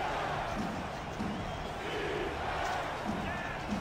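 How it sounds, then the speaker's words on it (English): Dense roar of a stadium crowd at an American football game in Atlanta, with fans on their feet cheering, a continuous broad wash of noise with scattered shouts, loud and sustained throughout. "Fans are on their feet cheering here in the Hive in Atlanta, Georgia."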